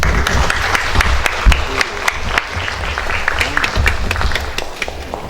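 Applause from lawmakers and staff at a Democratic Party caucus meeting, many distinct sharp claps in an uneven, fairly loud burst with some chatter underneath.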